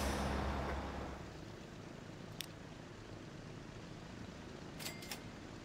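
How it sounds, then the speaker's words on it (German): Trucks driving in the video game Transport Fever 2, a steady low engine drone with a faint hiss and a couple of brief clicks, no voices over it. "Der LKW soll das hier rüberfahren"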